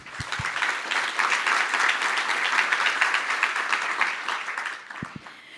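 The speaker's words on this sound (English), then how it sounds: "So join me in giving them a quick round of applause, everybody." An audience at an artificial intelligence and health care panel gives the panelists steady, dense applause lasting about five seconds before it fades, with a couple of low thumps at the start and end.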